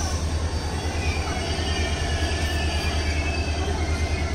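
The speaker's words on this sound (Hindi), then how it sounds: "ये बाजू में दूसरी ट्रेन भी आ गई अभी, जो भुज को ही जाएगी" A passenger train bound for Bhuj rolls into a station in Gujarat on the adjacent track. It makes a loud, continuous rumble with rail noise throughout and no clear talk over it.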